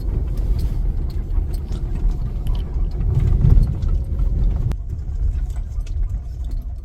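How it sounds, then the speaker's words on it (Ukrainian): A car creeping carefully over a potholed village road, a steady close rumble of engine and tyres with a swell of louder bumping in the middle, no talking. "Тут були ями такі в коліно. Зараз дивіться, оп-оп. Їдемо акуратненько."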